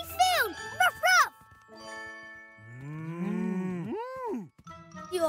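A cartoon cow lets out a long, sliding moo in a grassy field, clear and fairly loud, after a voice speaks and bright jingling chimes ring; the moo may be voiced by a performer.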